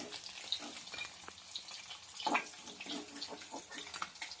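Small puti fish fry in hot oil until reddish, giving a soft, steady sizzle with occasional pops and stirring scrapes at low volume throughout.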